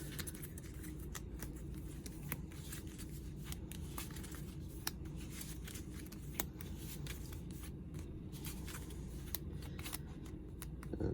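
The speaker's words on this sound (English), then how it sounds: "I'm trying to shuffle them good." Cards from the board game Pandemic: Fall of Rome being shuffled by hand, close and soft, with repeated riffles and quick sharp snaps of the deck throughout.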